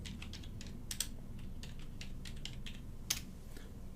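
Soft, quiet taps on a computer keyboard, scattered key presses with a couple of slightly sharper clicks, over a steady low room hum.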